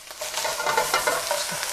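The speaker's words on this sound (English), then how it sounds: "So you want to make sure the hamburger is brown." Ground beef hamburger browning in a pan gives off a steady, moderately quiet hiss of frying with a few faint stirring scrapes, heard alone without voices.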